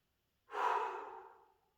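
A held breath let go during a gentle gym session, one sudden close exhale that bursts out after silence and tapers off over about a second, with no voices.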